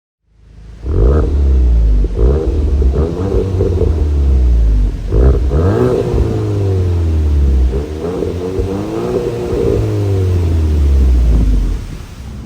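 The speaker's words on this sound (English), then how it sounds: "So let's just put this thing in drive and let's go." A 2023 Volkswagen Golf GTI pulls away and accelerates through several gears, each engine note rising then dropping at the shifts, heard from inside the cabin as a loud, steady rumble.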